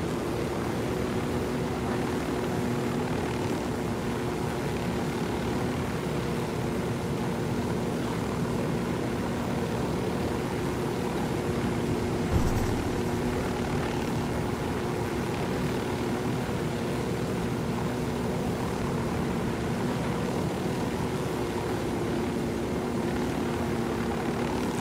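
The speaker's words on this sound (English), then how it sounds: "This chopper looks like a little bird." Helicopter in the video game Ghost Recon Wildlands, a steady droning rotor and engine hum held at an even level for the whole stretch, with no talk.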